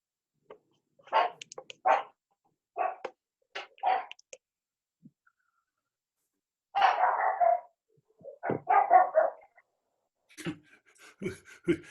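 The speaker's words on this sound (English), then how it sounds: "Is that your dog barking, Greg?" A puppy barking in repeated short bursts, some in quick pairs and others longer and louder, faint to moderate and heard from a distance with little else around.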